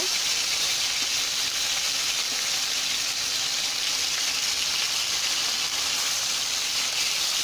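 Fish frying in an old wok, giving a steady, close, even hiss and sizzle that continues without a break, with no voices.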